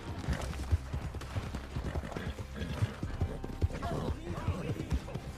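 Hooves beat in a quick, rhythmic gallop as a horse is ridden hard through town and field in Red Dead Redemption 2 Online. The hoofbeats are close and steady, with a brief neigh.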